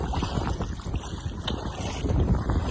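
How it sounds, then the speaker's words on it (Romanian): Wind buffets the microphone aboard a small fishing boat on Siriu Lake, a steady low rumble with gusty swells and faint water movement, and no one speaking. "Bate puțin vântul"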